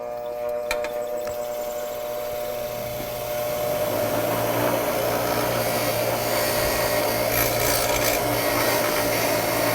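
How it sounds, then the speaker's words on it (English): A wire brush scrubs a brake caliper pin in a workshop, giving steady close scratching and rasping that grows louder and denser partway through, over a constant motor hum, with no talk. "you can take it over to a wire brush and just clean it up."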